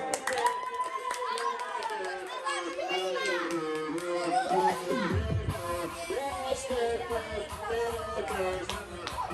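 A room of children at a birthday party claps and cheers together, the applause blending with excited voices and shouts.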